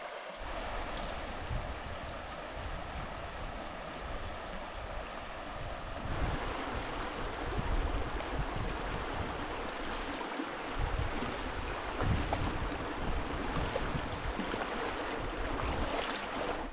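Steady broadband rush of river water flowing at the Aittajärvi ford crossing in Urho Kekkonen National Park, Lapland, continuous and fairly close with some wind noise and no talking.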